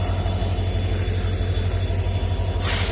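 An Indian railway locomotive draws toward a dead-end station at Nilambur Road, a steady low rumble with a faint whine above it and a brief burst of hiss near the end.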